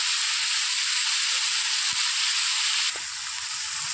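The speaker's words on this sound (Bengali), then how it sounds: "আর এই ভাজাটা ভাজার সময় একটু সাদা তেল দিয়ে ভাজলে বেশি ভালো লাগে" Food frying in white oil, a steady, fairly loud high sizzle with a couple of soft knocks, easing slightly toward the end.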